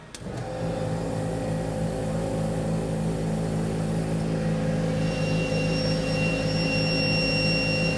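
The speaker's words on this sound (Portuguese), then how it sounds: "esse é o nível de ruído do compressor de parafuso" A screw compressor runs steadily after start-up, a loud, constant mechanical drone with strong tonal hum and a high whine, starting abruptly and holding an even level with no talk.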